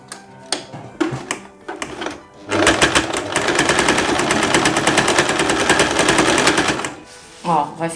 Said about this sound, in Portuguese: e passa uma costurinha.